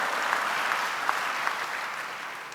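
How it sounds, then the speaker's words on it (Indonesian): Congregation applause at a church service, a dense, even wash of many hands clapping continuously at moderate loudness with no talking. "Berikan tepuk tangan bagi Allah kita."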